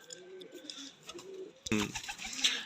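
A teddy pigeon coos softly in a few low, murmuring phrases, followed by a sudden louder rustle or flutter near the end.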